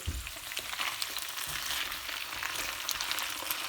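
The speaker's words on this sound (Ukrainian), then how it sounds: "Трохи всипав часнику, поки воно все жариться." Potatoes fry in a pan with garlic added, giving a steady, close sizzle and crackle with occasional light scraping and stirring, no talking over it.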